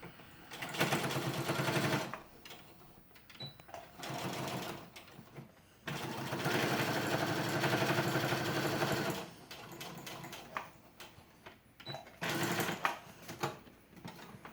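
A sewing machine stitches a fabric mask in several bursts of rapid, even needle chatter, a couple of seconds each, separated by short pauses and quiet handling noise.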